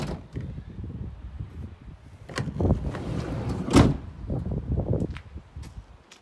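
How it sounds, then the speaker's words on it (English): A Mazda5 1.6 diesel people carrier's sliding side door being worked, with rolling, thudding mechanical movement, a sharp clunk near the middle and further knocks as the door slides and latches, close by. "It's got the sliding door on both sides."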